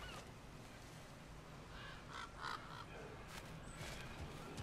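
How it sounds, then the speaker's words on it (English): Crows cawing in God of War Ragnarok, a few faint calls in the middle over a steady, noisy game ambience, with no speech. "Is there more ravens around you? I hear crows."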